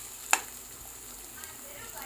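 Onions fry in a pan for a chicken curry, giving off a faint, steady sizzle with one sharp clink of a utensil.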